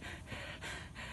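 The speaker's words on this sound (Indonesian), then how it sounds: "Lumayan sudah ngos-ngosan nih." Heavy, rhythmic panting from a hiker climbing Mount Nini, with steady breaths broken by short pauses, close and fairly quiet.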